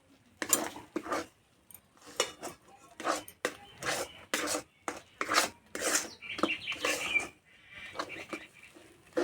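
A spoon repeatedly scrapes and stirs a thick mung dal mixture in a pan, making rhythmic rasping strokes with short pauses between them, close and clear with no talk.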